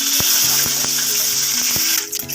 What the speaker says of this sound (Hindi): अब मैं लगाने वाली हूँ दाल का एक्चुअल जो है भगार, तड़का